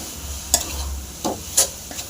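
Grated raw mango is stirred in a hot pan with a low background sizzle, broken by a few distinct scraping strokes of the spoon, close and clear with no talk.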